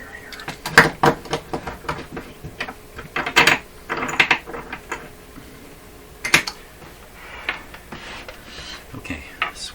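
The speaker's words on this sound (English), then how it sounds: "Let me just clamp this wire here." A wire is clamped in a workshop beside a 1935 Rogers Model 7R622 tube radio, making a series of close, irregular metallic clicks and clunks of varying loudness, with some handling noise between them.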